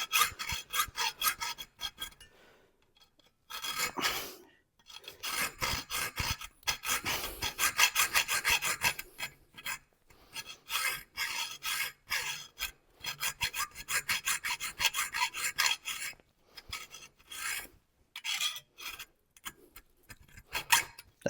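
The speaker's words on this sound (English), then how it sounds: "I have another hacksaw right here that's got a finer pitch" A hacksaw fitted with a finer-pitch blade cuts through metal stock held in a vise, giving repeated rasping strokes in bursts with short pauses between runs, close and steady with no talking.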